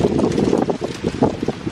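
Strong wind gusts buffet the microphone outdoors at a rural country property, a loud, rough, broadband roar that surges and dips in uneven pulses with no voices.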